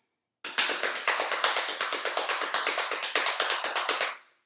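Rapid tapping of hands, imitating very loud rain in a kindergarten movement lesson about hurricanes, forms a dense, steady patter of quick close strikes that starts abruptly and runs for about four seconds before stopping.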